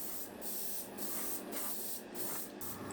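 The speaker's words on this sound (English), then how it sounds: "Move along the model using controlled sweeping motions until a good coat of primer or paint is on the model" Primer paint sprays from a can or airbrush onto a 1/350 scale Tamiya model of HMS King George V in quick repeated bursts. Each hiss is separated by a brief gap, close and fairly quiet.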